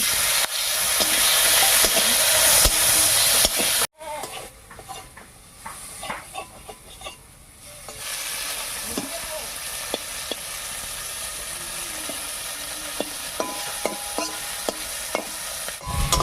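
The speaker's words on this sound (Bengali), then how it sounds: "রসুন আর কাঁচা লঙ্কার সঙ্গে মাছটাও বেশ ভাজা ভাজা হয়ে গেছে" Fish sizzles loudly in hot oil with garlic and green chillies, a constant frying hiss with crackles and occasional clinks of a utensil stirring the pan.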